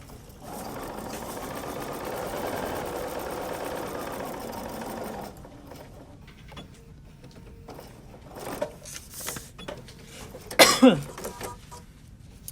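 A sewing machine stitches quilt fabric along a marked line in a steady, close run of about five seconds. Quieter handling and rustling of the fabric follow, with a brief louder scrape near the end.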